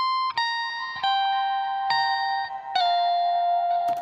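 Octave-up pitched electric guitar run through an amp-simulator rig, sustained bright, slightly ear-piercing notes changing every second or so, played alone with a few sharp attacks.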